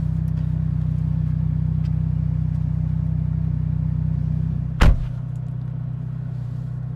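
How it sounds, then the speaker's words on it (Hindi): Ferrari Roma sports car being driven and turned, a steady low engine rumble that continues throughout, with one sharp brief burst near the end before the drone carries on. "मैं यहाँ पे थोड़ा सा ऐसे गाड़ी को घुमाऊँ ताकि आप लोग इस गाड़ी का ब्यूटी देखें"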